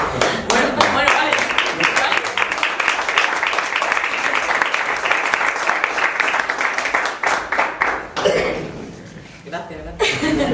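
Sustained audience applause fills a feminist panel session at a conference on the Andalusian constitution: dense, steady clapping from a crowd with scattered chuckles and voices, thinning toward the end before a brief renewed burst.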